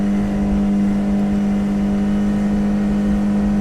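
A Suzuki 90 outboard motor on a 1998 Lund 1700 Pro Sport boat held near 6,000 RPM, a loud, close, unbroken engine drone with a strong steady hum and rushing wind.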